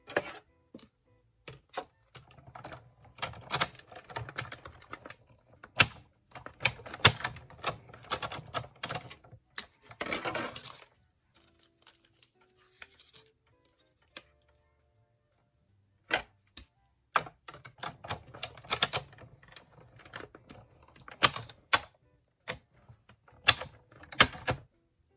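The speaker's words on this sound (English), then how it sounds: "We need to die cut our 3 little coffee cups, so we're going to run that through" A die cutting machine runs small paper coffee-cup shapes through three times, giving bursts of clicking, ticking mechanical clatter separated by short pauses and quiet stretches, close and fairly soft with no talking.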